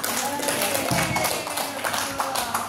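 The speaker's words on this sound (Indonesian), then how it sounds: "Tepuk tangan dulu lah." Students and teachers clap hands at a school discipline workshop in Indonesia, a scattered round of clapping mixed with chatter and voices in a busy room.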